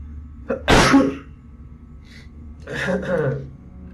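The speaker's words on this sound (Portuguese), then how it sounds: "Espirrar num momento dramático desse." A character in the video game Heavy Rain sneezes once, sharp and loud, after a brief intake of breath, followed by quieter breathy vocal sounds and game audio.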